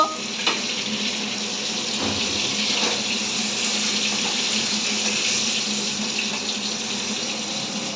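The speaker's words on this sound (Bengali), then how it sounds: "তো মাথা ভাজা হয়ে গেছে, এবার তুলে ফেলবো।" Large hilsa fish heads frying in oil in a wok, a steady loud hissing sizzle with occasional crackles, close and continuous without talk.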